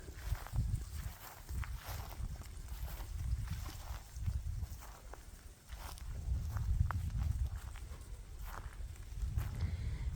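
Nigerian dwarf goats walk on a homestead, their hooves making soft irregular steps that sound close to the microphone over low rumbling outdoor background noise.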